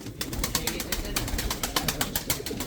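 Tumbler pigeons at a pigeon auction in Sincan, Ankara, with cooing and bird sounds amid rapid clicking and handling noise, close and busy, with crowd voices in the background.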